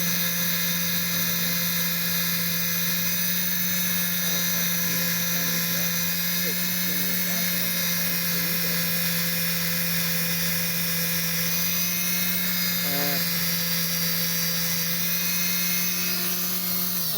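A small rotary tool whines steadily while deburring a small rocket body tube, a sustained high-pitched drone with strong harmonics throughout, pitch dipping briefly near the end.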